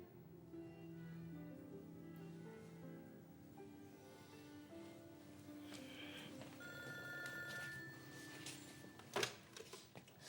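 A telephone rings in a home during a Taiwanese drama scene. The ringing is moderately loud and repeats over a bed of music, with a sharp accent near the end.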